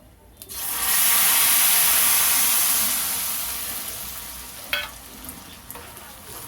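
Tamarind pulp hits a hot pan of rice mixture with fried dried red chillies, setting off a loud sudden sizzle that swells and slowly fades, followed by a few stirring scrapes.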